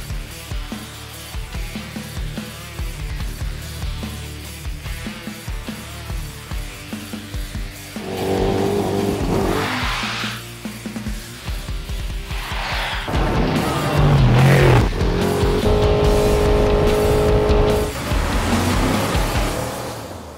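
A test car driving hard on a track during tire testing, with a loud continuous engine and road roar that swells midway and brief tonal squeals of tires.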